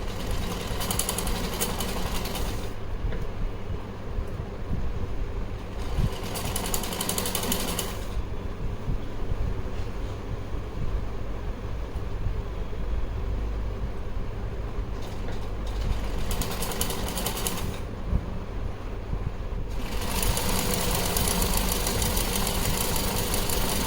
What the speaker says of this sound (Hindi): देखिए दूसरी सिलाई भी लगा ली